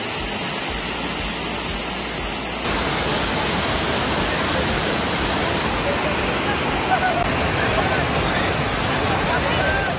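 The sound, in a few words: Ermayi waterfall in Karnataka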